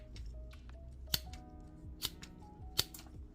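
Three crisp snips as multitool scissors bite through copper-stranded wire right at the blade tip, spaced about a second apart and close up, over faint handling rustle and a low hum.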